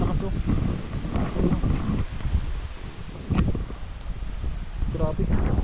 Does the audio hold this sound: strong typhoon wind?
yes